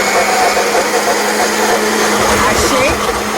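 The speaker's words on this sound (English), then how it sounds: "I put in the blender and I blend" A kitchen blender runs steadily and loudly while blending beans for akara, a continuous whirring motor drone that fills the whole stretch without pause.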